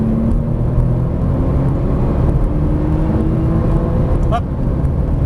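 A Porsche Turbo S accelerates hard on a racetrack, its engine a loud, steady roar close to the microphone throughout, with a brief sharp whine near the end.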